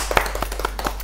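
A studio audience on a talk show claps to welcome a guest, a quick run of distinct close hand claps at an irregular rhythm.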